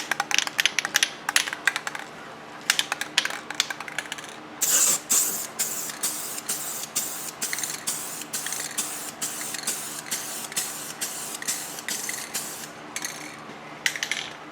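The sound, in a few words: Rust-Oleum Custom 5 in 1 spray paint spraying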